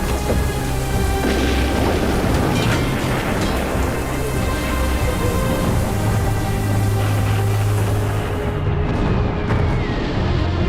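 Heavy booming cannon fire and explosions in a Sino-Japanese War naval battle scene, dense continuous rumble with repeated blasts, loud and unbroken, with a rushing roar throughout.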